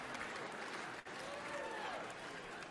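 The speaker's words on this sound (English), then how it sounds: "Golf clap." A comedy club audience gives a light, polite golf clap: soft, scattered applause that stays quiet and even for a few seconds, with a faint murmur underneath.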